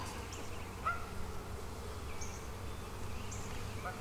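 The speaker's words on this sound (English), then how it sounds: "Ooh, now we're getting into the bees" Honeybees hum steadily around an opened hive during a spring inspection, a dense, close buzz with a few louder individual bees passing near.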